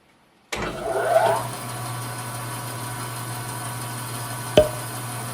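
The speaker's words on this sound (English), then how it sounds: "When I first turned it on, I was surprised just how quiet it was, and there's little to no vibration." A Rikon 14-inch 10-326 bandsaw with cast iron wheels starts up and runs with a quiet, steady hum, a soft whir at startup and one brief tick near the end.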